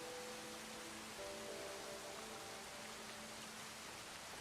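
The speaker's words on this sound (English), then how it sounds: "Now, I am going to stand out in the rain in a sad way." Steady, even rain hisses down in the open-world video game Crimson Desert, a soft, continuous wash with no voices.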